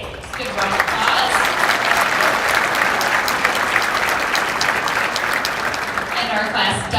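Sustained applause from a banquet crowd honoring the War Road Lady Warriors, Class A girls' hockey champions, with dense steady clapping that holds loud for several seconds before easing slightly.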